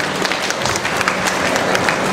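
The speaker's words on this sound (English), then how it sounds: "Please stand up so that we all can give you a round of applause for our appreciation" An audience at a Chinese New Year celebration in a senior citizen home claps in a steady round of applause, dense and sustained with individual claps standing out, moderately loud and close.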